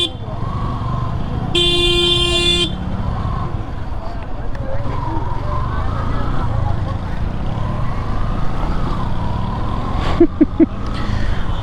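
Heavy road traffic in a jam, with a loud multi-tone horn blast near the start, a short burst of honks toward the end and a constant engine rumble throughout.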